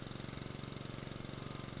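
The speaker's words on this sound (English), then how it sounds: "I got myself a little bitty push lawnmower." A small push lawnmower engine in Farming Simulator 19 chugs in a fast, even pulsing rhythm, loud and continuous from start to finish with no speech.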